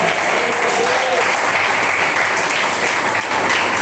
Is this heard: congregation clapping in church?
yes